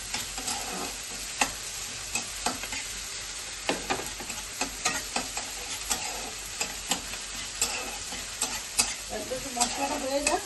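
Ginger and spices fry in the pan for a fish curry, giving a steady close sizzle broken by frequent sharp ticks and clacks from a utensil stirring, with no speech.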